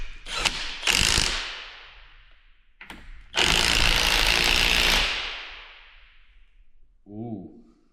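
A part is tightened by hand on a wrecker truck, giving two short bursts of ratcheting, clanking mechanical noise followed by a longer, louder metallic rasp that fades out, then a brief low knock at the end.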